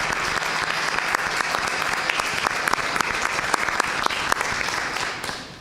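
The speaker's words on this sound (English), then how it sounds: "Let's give them another round of applause." A crowd applauding steadily at a virtual school board meeting, with dense, continuous clapping that holds level throughout and fades slightly at the very end.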